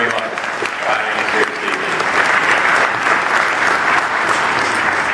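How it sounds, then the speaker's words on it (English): An audience at a school spring concert claps loudly and steadily, a dense wash of applause that holds for several seconds. "Let's give them a round of applause now."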